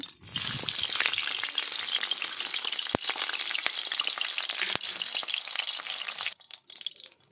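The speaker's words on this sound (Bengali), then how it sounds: "তেল গরম হয়ে এসেছে, আমি ইলিশ মাছের লেজাটা একটু ভেজে নেব।" A hilsa fish tail fries in hot oil with a loud, dense, crackling sizzle and a few sharp pops, then drops quieter near the end.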